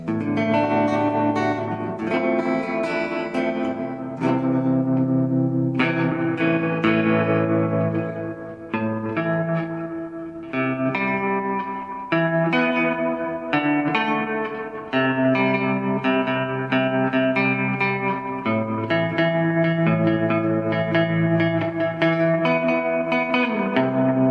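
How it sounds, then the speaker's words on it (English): Electric guitar played through a Fender Tone Master Twin Reverb amp with reverb and tremolo, a carbon copy delay pedal also on, sustained chords and notes ringing continuously at steady volume without talk. "We'll just get the reverb on. A little tremolo or vibrato."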